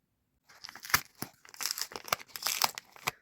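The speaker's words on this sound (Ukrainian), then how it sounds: "Розпаковую." A parcel being unpacked up close, with packaging crinkling and tearing in quick, irregular bursts of rustle and rip, fairly quiet and with no talking.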